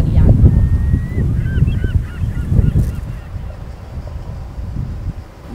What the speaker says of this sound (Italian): Gabbiani.